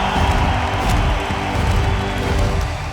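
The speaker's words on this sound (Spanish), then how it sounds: "Un fuerte aplauso para SEAT." A large crowd at an esports team presentation claps and cheers for SEAT, a loud dense roar of applause and shouts holding steady for the whole stretch.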